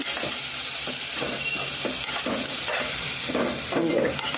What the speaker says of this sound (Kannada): ಸ್ವಲ್ಪ ಮೆಣಸಿನ್ಕಾಯಿ, ನೀಟಾಗಿ ರೋಸ್ಟ್ ಮಾಡ್ಕೋಬೇಕು.